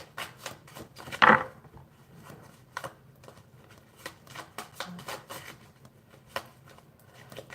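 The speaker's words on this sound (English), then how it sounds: "Nice shuffle on that." Tarot cards are shuffled in a series of crisp riffling bursts and soft taps, one louder flurry early on, otherwise quiet and close.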